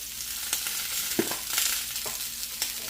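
Picanha steak searing in olive oil with coarse cracked pepper in a hot pan, a steady close sizzle broken by sharp crackles and pops.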